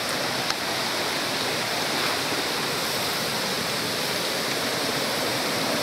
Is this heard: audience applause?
no